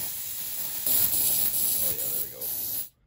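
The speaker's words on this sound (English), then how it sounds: "So you can spray it, and then it's almost resistant to bending." Endodontic ice-cold spray hisses steadily from an aerosol can onto soft gutta percha for about three seconds, a close broadband spray with slight pulses that cuts off abruptly.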